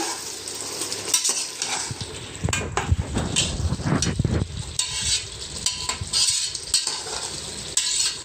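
Chicken biryani with fresh coriander being stirred in a pot, giving loud continuous scraping and mixing against a steady sizzle, with clattering spoon strokes close by and no talking.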